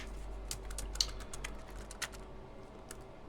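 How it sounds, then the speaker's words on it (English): Light clicks and taps come close up as the keyboard is lifted out of a Dell Studio 17 laptop during a repair, with a few sharper snaps among the scattered plastic ticks, no voices. "lift that little tab up and now we can take the keyboard out"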